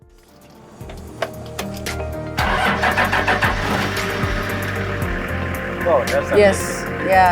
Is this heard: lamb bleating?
no